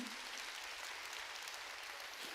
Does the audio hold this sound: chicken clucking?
no